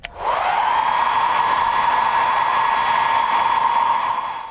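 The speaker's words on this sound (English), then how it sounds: "Blow dryer." A blow dryer clicks on and settles into a loud, steady whirring hiss that runs unbroken until the end, with no voices.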